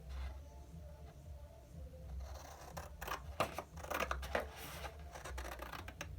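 Card is cut by hand for card making, giving a quiet series of crisp snips and scraping clicks that grow busier toward the end.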